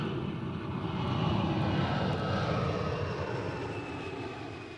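A propeller airliner drones steadily overhead in old archival footage, a loud, continuous engine roar that swells slightly and then eases, with no voices.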